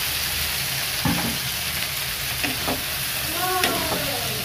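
Okra and potato pieces, coated in turmeric and salt, sizzle steadily in a hot pan, with a few scrapes and stirring clatters and a brief faint voice over the constant frying hiss.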